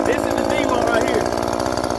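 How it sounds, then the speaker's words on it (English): A Dewalt chainsaw runs its chain on the bar with a steady, close, pulsing motor drone, partly overlapped by a voice talking. "That's as fast as that chain is going to go on that bar."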